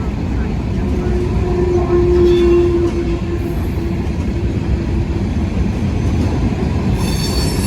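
A train rolls over a railroad diamond interlocker in Marion, Ohio, with a loud, steady rumble of heavy cars, a brief squeal in the middle and faint wheel clatter throughout.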